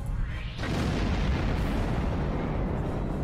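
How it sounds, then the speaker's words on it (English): A Romulan warbird is destroyed in the space game Star Trek Online, a loud, continuous rumbling explosion that swells after a brief opening burst and roars on with no talk. "today is the day a Constitution class destroyed a Romulan warbird."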